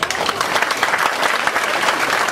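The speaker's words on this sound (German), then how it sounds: "Applaus für Diamond, meine Damen und Herren." Dense, sustained applause from an audience at a mind-reading stage show, even and loud for the whole short stretch.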